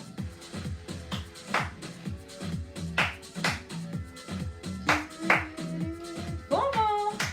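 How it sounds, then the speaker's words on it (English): Hands clap in a steady, repeated rhythm during a seated exercise class, close and moderately loud, with an instructor's voice talking over the beat. "Remember the clap."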